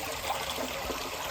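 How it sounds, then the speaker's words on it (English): Water rushes steadily past a split board in a small dam across an irrigation ditch, a close, continuous wash with no pauses and no talking. "it split one of the boards down there, and it's letting quite a bit of water past"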